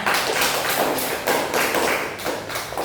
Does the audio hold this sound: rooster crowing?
no